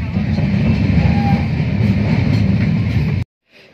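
A passenger train rumbles loudly and steadily beside the platform at Amguri railway station, then cuts off abruptly into near silence.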